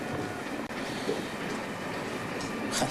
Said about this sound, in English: It's always the bloody train from Moscow that makes it.